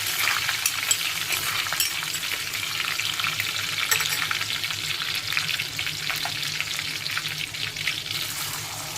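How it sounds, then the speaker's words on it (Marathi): Curry leaves spluttering in hot oil in a pan, a continuous close frying sizzle with scattered sharp pops and crackles, loud and even throughout, with no voices. "कढीपत्त्याची पण फोडणी दिलेली आहे।"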